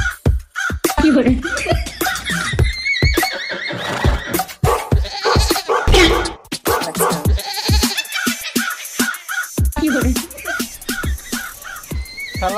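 Goats bleat again and again, loud and close, in a rural farmyard, with people talking over and between the calls.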